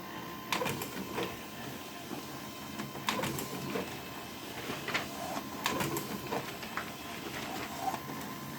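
A Canon imageClass MF4720w laser printer, serviced for a bad-printing fault, runs a page through with a continuous mechanical whir. Sharp clicks and clacks repeat irregularly over the drone, close and fairly quiet, with no one speaking.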